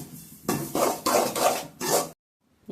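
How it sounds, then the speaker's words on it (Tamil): Roasted semolina being stirred into ghee in a pan for rava laddu, heard as about five close, rhythmic scraping strokes that stop abruptly, with no talking. "நெய்யுக்குள் வறுத்த ரவையை போட்டு கிளறுவோம்."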